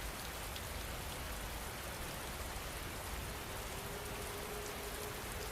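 Rain falls steadily in a dense, even hiss with soft patter, continuous and unbroken for several seconds, with no voices or other sounds.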